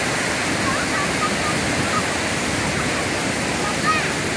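Waterfall at the Chiplima Ghanteswari hydro electric project in Sambalpur, a loud, continuous roaring rush of falling water that stays broad and steady throughout, with faint voices barely audible beneath it.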